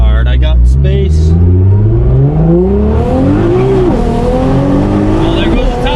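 A 1300 bhp Nissan R35 GTR fitted with an HKS GT1000+ turbo kit revs hard and accelerates loudly with rising engine pitch as its tires spin and squeal, while an excited voice exclaims over it.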